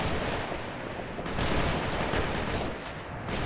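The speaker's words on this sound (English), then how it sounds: "Sounds like hostile fire!" Dense hostile gunfire in Operation Flashpoint: Red River, a continuous crackling fusillade of rifle and machine-gun shots that swells and eases without pause.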